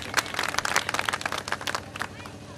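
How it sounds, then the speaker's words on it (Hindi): Crowd applause breaks out in honour of Babasaheb Ambedkar at a public gathering, a dense burst of clapping that rises and stays busy for a couple of seconds with scattered sharp claps. "साहब के नाम की ताली यहाँ पे गूंज जाए"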